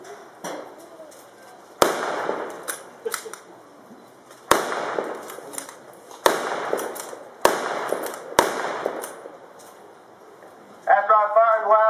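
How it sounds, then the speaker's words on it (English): Several loud, sharp rifle shots from an M1903 Springfield at a WWII re-enactment, spaced a second or two apart and cracking out over an open outdoor setting, with a person talking at the very end. "I'm now going to demonstrate the 1903 Springfield."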